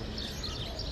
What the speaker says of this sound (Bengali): ভোরের পাখিরা ডাকছে।